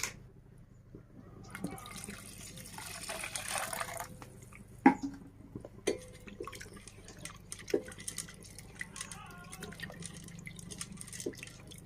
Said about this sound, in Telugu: వేసేసాను చింతపండు పులుసు మొత్తం వేసేసాను.